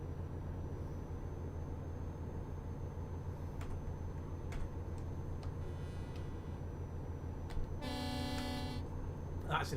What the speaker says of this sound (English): That's an interesting air horn.